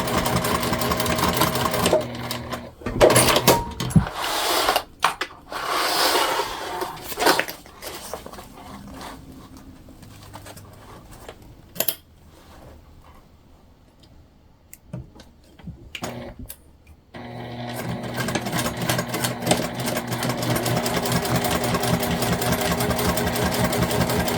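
A sewing machine backstitches a crossbody bag seam, running in steady loud bursts with short pauses and a quieter stretch mid-way before resuming a continuous stitching run.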